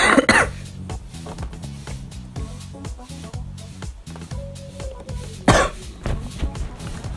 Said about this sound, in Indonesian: Oke, maaf ya, batuk.